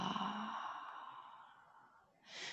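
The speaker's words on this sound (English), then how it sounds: "So big breath in and let it out" A long, slow exhale during a yoga session for tight hamstrings, soft and close, fading gradually before a fresh intake of breath begins at the end.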